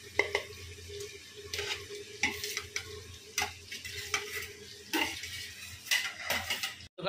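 Potatoes fry in roasted masala in a home pan: soft sizzling under a series of sharp, close spatula scrapes and clanks against the pot, irregular stirring strokes every second or so, no voices.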